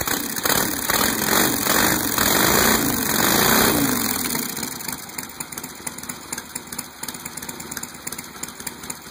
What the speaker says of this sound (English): Yeah, it's idling perfect.